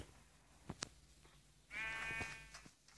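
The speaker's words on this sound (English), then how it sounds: "Sheep." A sheep in a video game bleats once, a quavering harmonic cry heard faintly alongside a few small clicks and thuds.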